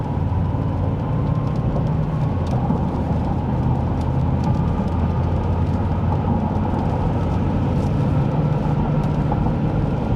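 Ford F-150 Lobo pickup truck with an FP700HP package accelerating moderately through its gears, heard as a steady, loud engine and road drone from inside the cab that holds an even level throughout.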